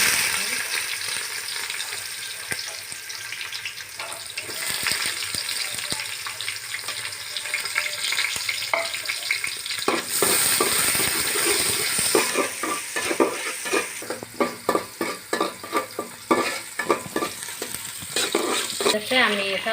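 Onions fry in plenty of oil with whole spices for chicken biryani, giving a continuous loud sizzle that grows busier with rapid stirring and scraping strokes toward the end.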